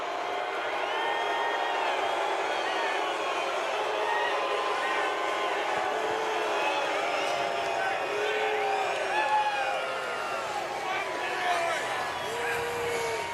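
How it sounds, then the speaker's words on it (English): A large NASCAR race crowd mixes boos with cheers and whoops for Ty Gibbs, the 2022 Xfinity Series champion, a steady distant roar with rising shouts throughout. "it was a lot of boos from the crowd, but that was a mixture. Some cheers there for Ty Gibbs"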